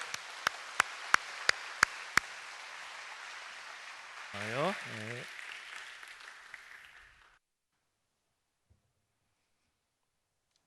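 Congregation applause at a Korean church adulthood blessing service, a broad steady patter filling the room for about seven seconds, with a voice speaking briefly midway before it fades to silence.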